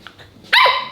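A single sharp dog bark, loud and close, breaks a quiet room.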